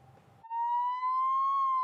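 An ambulance siren from a wish-granting charity ambulance in Murcia, a single steady, loud electronic wail that cuts in abruptly after a brief faint murmur and holds its pitch.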